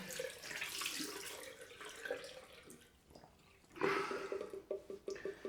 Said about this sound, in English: just putting cold water on.